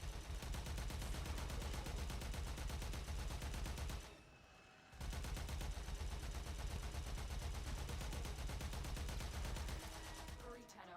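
Sustained automatic gunfire in the video game Warframe, a loud continuous barrage that drops out briefly midway before resuming and tapering at the end.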